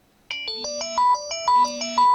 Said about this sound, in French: quand mon téléphone vient doucement me murmurer qu'il est l'heure de se réveiller